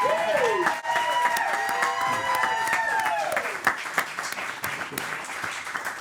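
A talk-show audience applauds a guest at a country music interview program, a steady patter of clapping running beneath a prominent voice that carries on over it.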